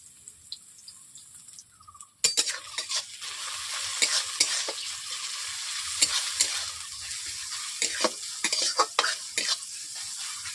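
Chopped onion and slit green chillies drop into hot oil for a tilapia fish curry, bursting into a loud, steady sizzle with repeated stirring clatter after a quiet start.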